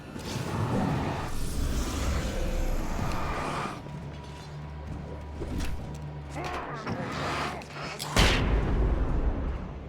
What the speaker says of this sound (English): Maybe I shouldn't have used the flashbang.